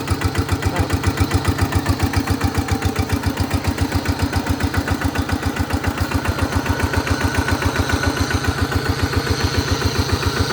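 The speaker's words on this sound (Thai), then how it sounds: "มันมีเสียงในปั๊มเห็นไหมครับมันมีเสียงอยู่ข้างในปั๊มนี่ไม่รู้ว่าเป็นไรลูกปืนแตกหรือเปล่าไม่รู้นะ" Walking tractor engine driving a shaft-driven water pump, running at a steady idle-like rhythm with rapid even pulsing throughout, loud and close, with a suspected failed bearing making noise inside the pump.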